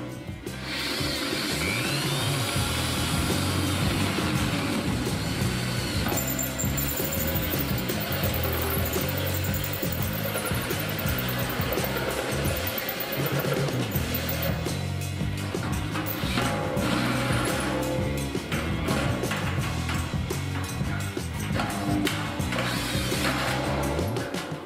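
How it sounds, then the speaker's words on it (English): Power drill working on a steel oil drum, the tool slipping in the chuck, producing a continuous loud grinding, ratcheting mechanical noise with music playing throughout. "This tool is slipping in the drill chuck."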